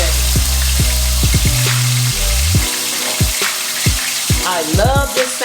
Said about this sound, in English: I'm gonna let that salmon fry down hard